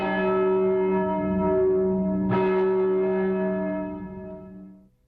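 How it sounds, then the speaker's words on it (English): A large church bell rings with a deep, sustained tone, struck again partway through, its rich overtones slowly fading alone in the quiet. "sometimes the sound of a bell strikes a memory so deep that we listen irresistibly with our hearts."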